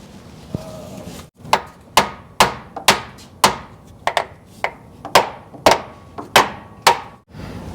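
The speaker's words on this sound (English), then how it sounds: "Can you hand me a hammer?" A series of sharp, ringing hammer blows on metal of an old Chevy truck, about a dozen strikes at an irregular pace, close and loud with quiet gaps between them.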